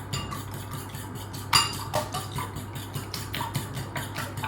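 Whole egg and egg whites with pepper and chilli flakes being whisked in a bowl: quick repeated metal-on-bowl strokes and clinks in a steady rhythm, close up, with one sharper clink partway through.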